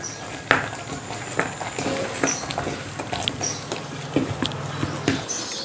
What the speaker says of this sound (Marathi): आता हे व्यवस्थित आपण मिक्स करून घेऊया.